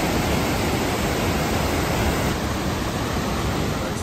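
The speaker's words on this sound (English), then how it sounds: "the waterfall's coming down hard today because we've had a lot of rain" A waterfall in Ireland pouring hard after heavy rain, a steady loud roar of rushing water that fills everything close by, with no voices.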